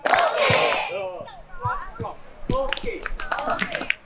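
Hands clap together in short sharp bursts during a group clapping game, mixed in with lively voices talking and calling out, with a small group nearby.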